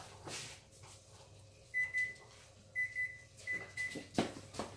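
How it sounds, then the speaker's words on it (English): Short high electronic beeps from a kitchen cooking alarm sound in pairs and triples, with a clunk and kitchen rustling nearby. "When you hear an alarm go off, call my name."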